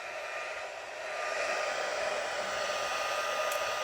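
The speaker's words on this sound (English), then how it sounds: "I'm going to go ahead and heat emboss that. So a little bit of noise." A heat tool for heat embossing blows hot air in a steady, close whooshing roar, swelling slightly louder after about a second and holding constant with no talk.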